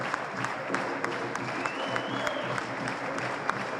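A crowd claps as six bodies arrive after a highway accident, steady moderately distant applause with scattered sharper claps standing out.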